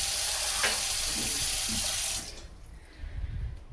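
Water runs steadily from a tap for about two seconds, then shuts off, leaving quiet with a few faint clatters afterward.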